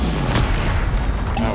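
In the Hogwarts Legacy video game, a Bombarda spell explodes with a loud, dense boom that fills the whole moment, rumbling heavily from start to finish.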